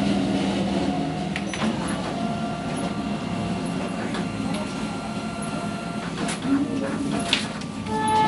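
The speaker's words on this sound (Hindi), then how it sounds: "हम इंक बढ़ा दिए और इसको हम प्रिंट करते हैं।" A Kyocera printer with an ink fault runs a page, giving a steady mechanical whir and rumble with faint clicks throughout.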